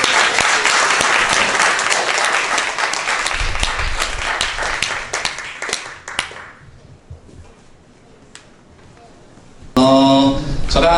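A congregation at a church summer retreat session applauds to welcome a pastor with a dense round of clapping that dies away after about six seconds, then there is near quiet, and a voice begins speaking near the end.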